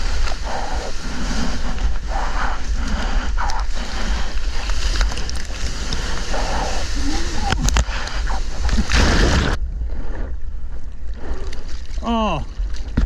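Ocean water rushes and splashes loudly around a surfer riding a messy left-hand wave, a dense roaring wash that cuts off abruptly, followed by quieter sloshing and a brief whistle-like tone.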